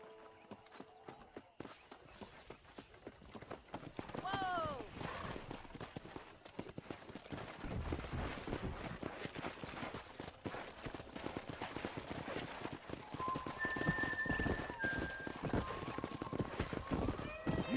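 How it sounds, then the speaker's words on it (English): Horses in Red Dead Redemption gameplay: hooves clip-clopping and building into a galloping run, with several neighs and whinnies early on, mixed with game sounds and faint talk. "Let's see if we can't wrangle some horses."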